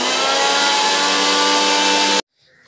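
A kitchen mixer grinder runs steadily at high speed, whirring as it grinds green chicken masala ingredients into a paste in the jar, then cuts off abruptly into near silence.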